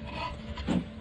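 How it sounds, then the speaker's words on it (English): A file rasps against wood at the neck joint of a lute-style ukulele, a short close scraping stroke that swells once in the middle. "All right, a little chisel work, a little filing."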